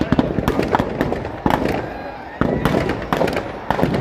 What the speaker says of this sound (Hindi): देखिए मैदान में नगर परिषद के द्वारा सुंदर आतिशबाजी का नजारा भी।